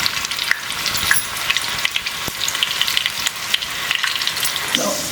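Sweet corn pakoda batter frying crisply in hot oil, a steady bright sizzle with crackling pops throughout, close and loud, with no talking.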